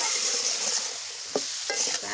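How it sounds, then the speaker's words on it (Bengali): Spices, salt and chili powder sizzle steadily in hot oil, with a couple of short scraping stirs of a spoon against the pan near the end. "তেলার মধ্যে আগে নাড়াচাড়া করে ভেজে নিই"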